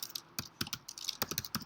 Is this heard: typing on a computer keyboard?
yes